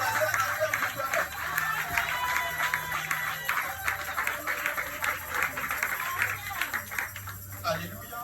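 A church congregation applauds and cheers at a French-language worship service, steady clapping and crowd noise running the whole time beneath a preacher's voice.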